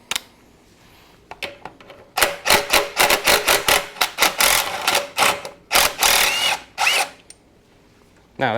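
A bolt on a Kubota L2201 tractor radiator is loosened with a power tool, giving a loud rapid burst of rattling ratcheting pulses for about five seconds, preceded by a few metallic clicks, close and alone.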